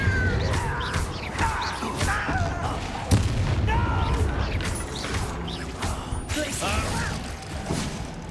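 Hogwarts Legacy spell combat as the Incendio fire spell is cast, with booming, crackling magical blasts layered over a dense, continuous wash of game effects.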